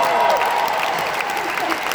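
A concert audience at the O2 breaks into steady, dense applause, a full wash of clapping from many hands with crowd voices mixed in, holding even throughout.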